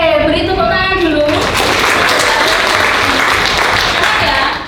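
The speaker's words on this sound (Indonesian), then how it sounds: "beri tepuk tangan dulu" Classroom of students gives a burst of applause, dense and loud, sustained throughout after brief voices at the start.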